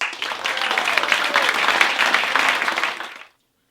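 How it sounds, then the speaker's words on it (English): Audience applause for Wendi Knox at a SHINE storytelling show, a full, steady burst of clapping that swells for about three seconds and then cuts off. "please round of applause for Wendi Knox"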